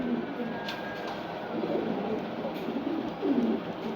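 Maxi racer pigeons coo in a low, soft murmur at a pigeon loft, several overlapping calls running steadily with a slightly louder burst near the end, no talking.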